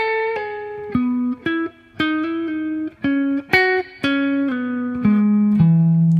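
A single electric guitar plays a slow melodic lick, distinct notes picked one after another with clear sustain and brief gaps, loud and close.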